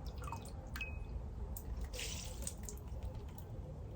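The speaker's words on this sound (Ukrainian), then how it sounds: "Отак ставлю сюди, сюди ця водичка стікає" Water drips from an orchid pot in a series of small, irregular drops, faint and close, with a brief trickle in the middle and no voices.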